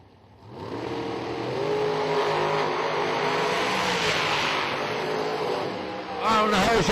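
Dragster making a drag racing run at The Million 2016, a loud engine roar that swells quickly and holds for several seconds before fading, with an announcer talking over it.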